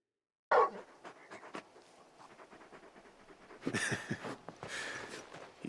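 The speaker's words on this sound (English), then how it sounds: "You're just a big puppy, aren't you?" Torgal, the big hound companion in Final Fantasy XVI, panting softly and steadily after a sharp onset, with louder bursts of breathy huffing near the end and no talk.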